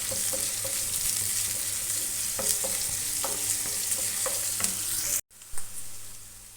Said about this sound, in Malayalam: കുറച്ച് ഗ്രീൻ ചില്ലി ഇട്ട് കൊടുക്കുക. നന്നായി മിക്സ് ചെയ്യുക. നല്ല ഹൈ ഫ്ലെയിമിലിട്ട് വേണം ചെയ്യാൻ.